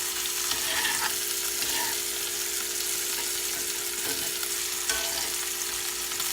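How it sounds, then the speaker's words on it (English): Food stirred in a frying pan for a pork steak dinner with corn gives a steady, close sizzle, with faint scraping clinks over the continuous frying hiss. "We're just going to stir it up again."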